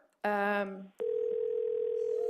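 A steady telephone dial tone hums alone through the second half, picked up during a call placed on a desk phone at a school board meeting, after a short burst of harmonic tones and a sharp click.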